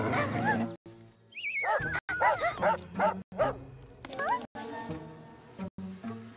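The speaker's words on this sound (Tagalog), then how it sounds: "Oh, isang galit na aso." An angry cartoon dog barks and yips in several sharp bursts, close and loud, with an animated pitch that rises and falls, mixed with a character's voice.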